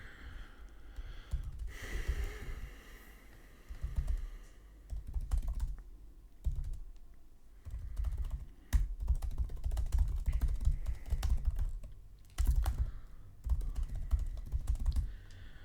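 Computer keyboard typing while coding during a Codeforces Div 3 contest, with bursts of close, uneven keystrokes and brief pauses between them, alone without speech.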